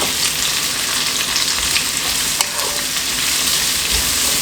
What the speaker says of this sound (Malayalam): എന്നിട്ട് വീണ്ടും ഹൈ ഫ്ലെയിമിൽ വെച്ചിട്ട് ഞാൻ ഇളക്കുകയാണ്